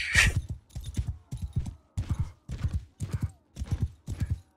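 Horse hooves gallop in Mount and Blade II Bannerlord with a quick, even clip-clop in regular bursts of beats, close and clear, while a mounted rider pursues someone.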